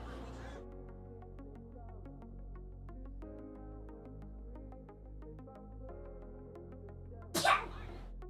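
A single sharp sneeze bursts out near the end over a quiet, steady background hum with faint musical tones.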